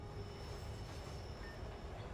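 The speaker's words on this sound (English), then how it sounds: "Good, a train." A train rumbles along with a steady rolling wagon noise and a faint high whine, heard alone in a short stretch within the Pokemon Rejuvenation video game.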